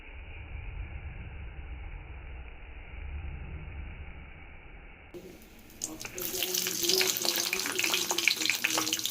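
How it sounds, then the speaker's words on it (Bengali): Nigella seeds and green chillies dropped into hot mustard oil, with a sudden loud crackling sizzle bursting in partway through and continuing busily after a quieter stretch of low background noise. "সর্ষের তেলের মধ্যে দিয়ে দেব আমি কালো জিরে আর কাঁচা লঙ্কা।"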